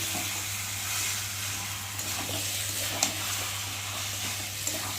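Meat and spices fry in a pan with a steady, quiet, close sizzle and a faint low hum beneath it, broken now and then by small clicks from stirring.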